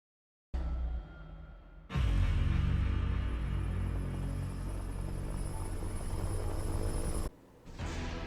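Sustained helicopter rotor and engine drone from the Resident Evil video game, loud and steady after a short lead-in, with a brief dip near the end before it resumes; no talking.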